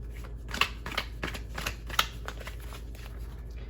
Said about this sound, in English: I'm gonna shuffle over here because I don't want it to be too loud.